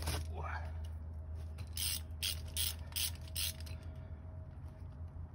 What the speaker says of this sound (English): you can take your 3/8 socket, stick it in here,